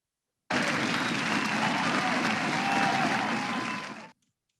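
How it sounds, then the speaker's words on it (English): Enthusiastic applause from a large crowd at an awards ceremony starts abruptly, sustains steadily for several seconds, then fades out quickly. "Let's give a round of applause for all these extraordinary women."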